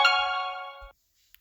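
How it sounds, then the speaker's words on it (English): A mine's warning beep in the mobile strategy game Boom Beach, a single bright electronic tone that holds for under a second and then cuts off into silence, with one faint tick after it. "the suspicious thing about the mine will be the beep"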